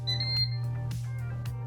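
A Ninja Foodi Pro pressure cooker gives a single clear electronic beep when its start button is pressed, followed by a steady hum and a few faint clicks.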